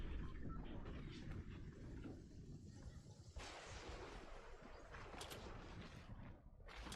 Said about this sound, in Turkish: Şurada zaten çatışma sesi var.